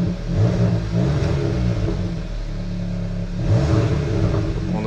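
Inside a Hyundai i20 N with 204 hp and its exhaust valve closed, the engine drones steadily, then swells twice as it revs, a muffled but full mid-range growl heard from the cabin.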